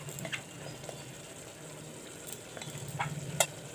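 Masala with turmeric powder fries for a mutton curry, a soft continuous sizzle with occasional light stirring scrapes and clicks, close and fairly quiet.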